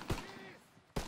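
Browning machine gun fire in the World War II shooter game Call of Duty: WW2, heard as short sharp bursts at the start and end of a brief stretch with fainter battle noise between.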